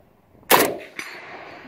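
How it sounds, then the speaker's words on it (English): An AK rifle fires a single loud shot outdoors, followed about half a second later by the sharp metallic ring of the bullet striking a steel plate target. "This is a good shooting AK right here"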